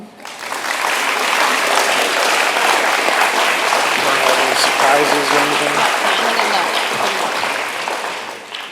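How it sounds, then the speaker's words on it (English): Sustained applause fills a school awards ceremony for fourth graders, loud and steady throughout, with a few voices talking briefly over the clapping. "Let's go ahead and give all our kids another round of applause."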